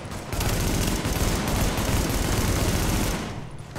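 Sustained enemy gunfire in The Division video game, a dense and loud fusillade of rapid shots that roll continuously for about three seconds before easing off.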